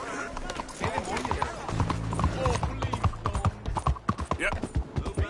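Horse galloping in the Red Dead Redemption 2 video game, a steady run of clip-clop hoofbeats with an occasional whinny, while someone talks over the riding throughout.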